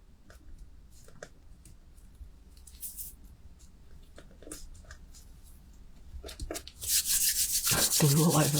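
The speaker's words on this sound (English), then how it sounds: "You can always get your little blue rubber out. Have a little rub like that." Dried glue is rubbed off fingers with a small blue rubber eraser, giving soft, close scuffing strokes in quiet bursts that grow into a louder, steady rub at the end.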